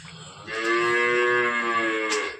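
A water buffalo moos loudly and close by, one long low drawn-out call with a steady tone, and no voices around it.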